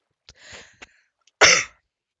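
A few small throat sounds, then one sharp, close cough.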